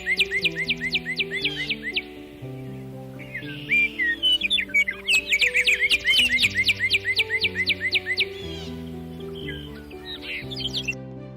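A nightingale sings loud and close, long phrases of rapid chirps, trills and whistles repeating over about eleven seconds, with sustained tones running steadily underneath.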